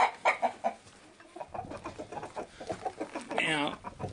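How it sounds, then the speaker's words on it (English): An Araucana rooster among crossbred chickens, clucking and fowl calls repeating in short bursts nearby, with a longer squawk near the end and a voice briefly among them. "This is our Araucana rooster."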